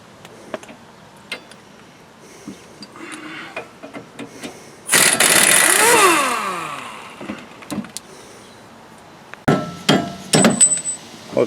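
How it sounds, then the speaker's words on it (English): Dead blow hammer knocking strut bolts out of a Ford Escape steering knuckle, with scattered sharp metallic taps, a burst of grinding noise in the middle, then a quick run of close, loud strikes. "We'll take the dead blow hammer and then knock the bolts out."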